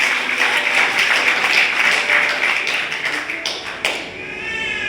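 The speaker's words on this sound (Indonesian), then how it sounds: "Tepuk tangan buat Tuhan" A church congregation applauding, a dense burst of clapping that fills the room, then thins and fades near the end with a few scattered claps and taps; no talking over it.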